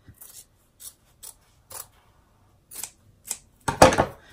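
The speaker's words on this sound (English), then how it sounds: "So I'll just go ahead and cut it really quick just to get it out of the way." Scissors snip through fabric, several short crisp cuts spaced irregularly, followed by a louder final crunching cut, close and otherwise quiet.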